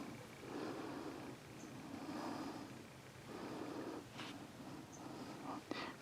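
A three-legged rescue cat purring up close, a steady low rumble that swells and fades in rhythmic waves, with a few faint small sounds near the end.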